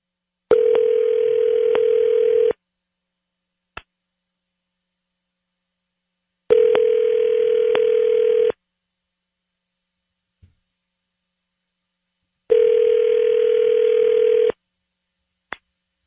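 Telephone ringback tone on an outgoing call, three long two-second rings spaced evenly by silent gaps, each followed by a brief faint click, loud and clear with no voices.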